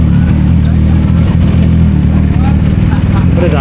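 A CF Moto 675NK motorcycle engine runs close and loud with a steady, rumbling low throttle drone, firm and continuous throughout with slight surges of revving, and a voice talking faintly beneath it.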